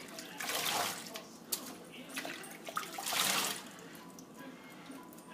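Water runs and splashes while virgin human hair is co-washed in a basin, close and fairly soft, swelling and easing in uneven bursts of trickling and dribbling, with a voice talking over it.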